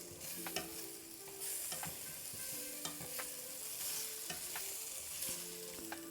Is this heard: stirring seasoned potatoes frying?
yes